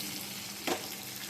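Chopped medium tomatoes fry in a pan for mango chicken, giving a soft, steady sizzling hiss with one brief louder stir-like burst midway.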